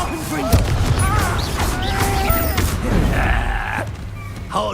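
A Confringo blasting spell goes off in Hogwarts Legacy amid a busy duel, heard as a booming burst among other spell effects and crackling impacts.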